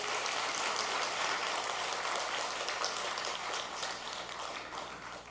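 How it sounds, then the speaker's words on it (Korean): Dense, steady clapping from a church congregation applauding its youth and students, a broad rain-like patter that holds loud throughout and eases slightly toward the end, with no voices over it. "우리 청년 학생들 박수 한번 쳐줘요."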